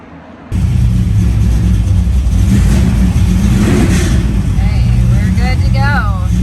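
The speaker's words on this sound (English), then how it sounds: "So, yep, one car, starting it up, and then we keep waiting." A car engine cranks and starts up, then settles into a loud, steady low rumble close by, with a person talking briefly over it near the end.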